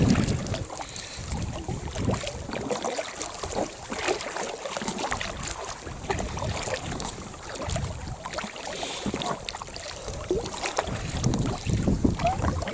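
A small boat is paddled against the wind on open water, with continuous gusty wind buffeting the microphone over steady splashing and water rush, close and fairly loud throughout.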